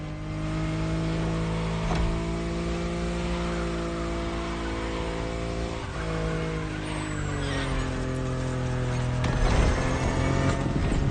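A BMW i8 sports car drives in The Crew Motorfest racing game, its engine holding a steady loud drone with harmonic shifts as it revs, tire noise swelling near the end.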